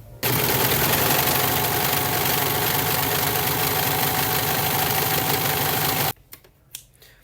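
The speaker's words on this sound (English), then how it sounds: "put it through the serger first and then sew it together" A serger runs steadily through denim pieces, a loud, dense, rapid mechanical whir held at an even pace for about six seconds before stopping abruptly, followed by a few faint handling clicks.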